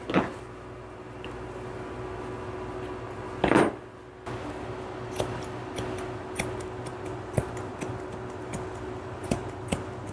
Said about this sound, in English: She's got some mats in here. I'm just going to snip them out.